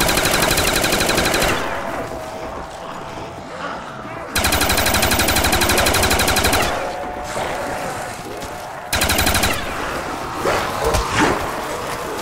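Rapid automatic gunfire blasts in long, loud bursts with short pauses between them, from Call of Duty Black Ops Zombies on the Kino der Toten map, dense and continuous at close range.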